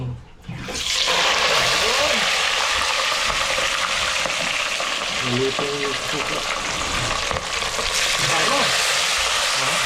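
Marinated fish sizzles hard in hot oil outdoors on a windy day, a continuous loud hiss and crackle with occasional voices under it.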